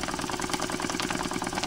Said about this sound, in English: So it's a power stroke on every single time the piston moves.